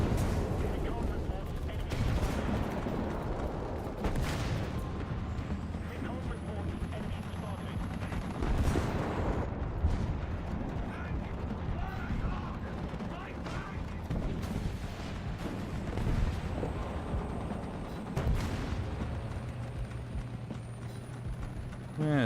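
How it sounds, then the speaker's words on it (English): Explosions and gunfire in a video game battle come as repeated sharp bursts and booms over a rumbling background, with someone talking across much of it. "There are a lot of explosions going on already."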